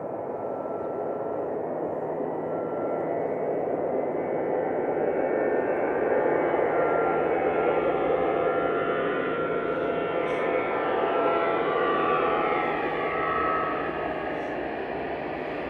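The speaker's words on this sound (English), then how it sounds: "Ryanair 4007 heading to Alicante, EIDPJ, operating that. This is 737-800." A Ryanair Boeing 737-800 jet departing toward Alicante gives a steady, moderately loud engine roar with a rising whine, continuous and fairly close at an airport.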